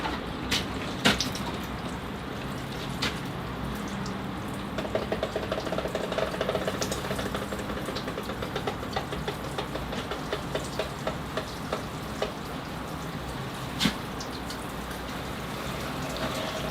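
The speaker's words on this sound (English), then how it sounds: "I'll get the water now and start watering all the trees in here." Ice water pours and splashes onto bonsai trees and their soil in a steady, close patter, with occasional sharper drips and taps breaking through.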